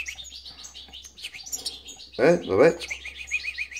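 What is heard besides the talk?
goldfinch hybrid bird chirping in aviary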